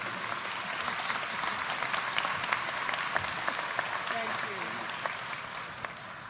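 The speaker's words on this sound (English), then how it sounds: "Can we give Bickley United Methodist Church a round of applause?" Sustained audience applause at an afternoon awards presentation, steady clapping from a crowd throughout, fairly close and even in loudness with no break.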